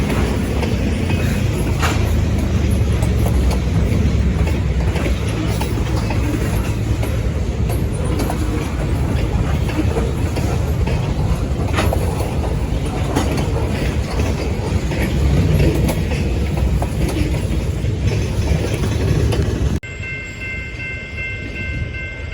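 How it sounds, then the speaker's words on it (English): An ALCO RS27 diesel locomotive, number 316, switching cars for customers in the Twin Cities: a steady, loud rumble of engine and rolling cars with faint clatter, continuing throughout and dropping off near the end. "We'll watch as number 316 goes about switching customers in the Twin Cities on Job 52."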